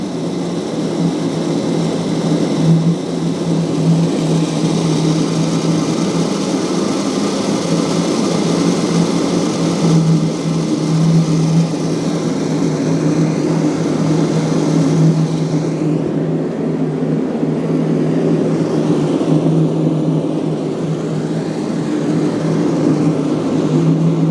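A gas ribbon burner forge runs steadily with a loud, constant roaring hiss and low rumble that holds unchanged throughout, with no voices over it.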